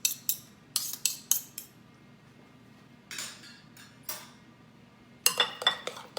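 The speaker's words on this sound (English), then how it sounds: "Now I'm gonna take my squash and grab a spoon." A spoon scooping cooked squash in a dish for a squash casserole: quiet scattered clinks and taps of metal against the dish in short bursts, separated by near silence, with no voices.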